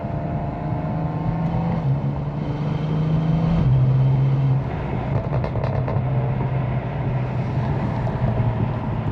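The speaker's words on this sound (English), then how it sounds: "I'm hearing the valves, the physical valves themselves, rattling in there" Steady engine drone with a faint metallic rattle from the exhaust valves of a 2026 BMW M4 Competition xDrive with a catless FI exhaust, heard from inside the cabin; continuous, moderately loud, no talking.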